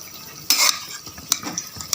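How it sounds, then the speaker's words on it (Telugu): Utensil scraping and stirring in a pan of fish frying in oil with tamarind sauce, a loud burst of clatter followed by lighter clinks and a faint sizzle, no talking. "చేపలు మంచిగా నూనెలో గోలినాక చింతపులుసు పోసింది మా మదరు."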